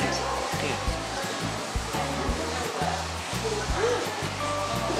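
A no-heat vibrating hair straightener runs in a Tokyo salon, giving a close, rhythmic pulsing buzz over an airy hiss, with soft voices in the background.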